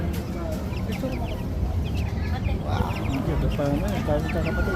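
Chickens cluck and chatter continuously nearby amid a busy outdoor country fair on Session Road, Baguio City, with a brief exclamation from a person.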